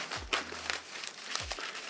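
A pull tab torn open on the cardboard packaging of an Apple Magic Keyboard box, heard up close as two short crinkling, ripping bursts with soft thumps of handling between.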